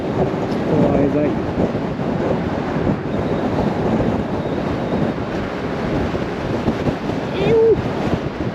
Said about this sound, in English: Crazy windy right now.